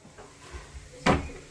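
A door closing at home, a single dull thud after faint shuffling and rustling, close by with no talking.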